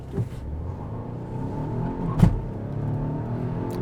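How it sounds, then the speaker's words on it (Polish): A 2025 Volvo XC90 T8 AWD launches under full throttle, its engine rising from a low rumble into a steady revving drone with a brief sharp burst midway, heard close inside the cabin. "przełączmy się w drive, noga na hamulec, gaz podłogę, podtrzymanie obrotów"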